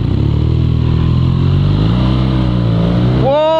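A 2017 BMW R nineT motorcycle engine runs loud and close with a steady, deep throb, then revs sharply upward near the end.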